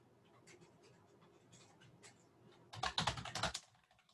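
Typing on a computer keyboard, first soft and sparse key taps, then a louder, fast burst of clattering keystrokes near the end, with no talking.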